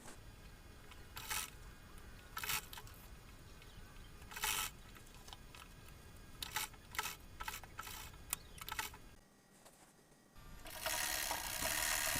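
A sewing machine stitches gathers onto a baby dress in several short, quiet bursts separated by pauses, ending in a longer run of stitching.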